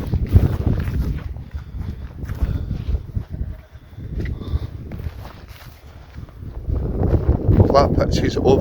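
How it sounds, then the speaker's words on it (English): Gusty wind buffets the microphone on an open pitch overlooking a castle on the Isle of Raasay in Scotland, a loud rumbling roar that surges and eases, with rustling movement close by. "A bit windy"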